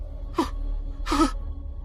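Two sharp panting gasps from a man in a Hindi horror audio drama, the second louder and longer, over a low rumbling background.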